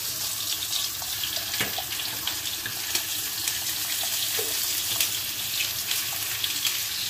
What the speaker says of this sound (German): Zum ersten Mal gieße ich Reis hier ab.